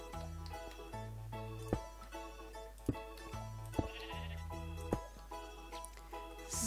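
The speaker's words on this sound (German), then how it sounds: "Habe ich jetzt ein Schaf im Haus?" Sheep in the video game Minecraft bleat repeatedly inside a house over steady in-game background music, the cries fairly quiet and recurring every second or so.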